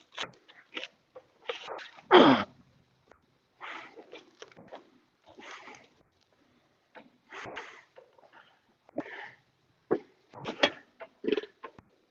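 A dog sneezes on a fishing boat at night, a few short sharp bursts among scattered snorts and rustles, fairly close and quiet, with no talk over it.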